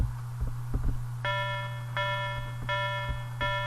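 A looped basic instrument sound in Arkos Music Tracker repeats as a bright sustained tone, retriggering four times at a steady rhythm of about 0.7 seconds. Faint low hum and clicks run underneath throughout.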